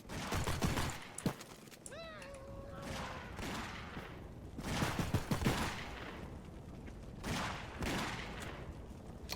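Bursts of gunfire in the video game Postal 4, several sharp shots and short volleys spread across the scene, mixed with a meow-like cry and game noise.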